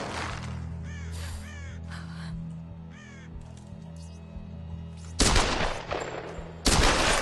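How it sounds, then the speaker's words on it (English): Gunfire in the Tomb Raider video game: two loud, sharp bursts ring out near the end, following crow-like cawing and ambient game sounds. "let's fire 2 bullets"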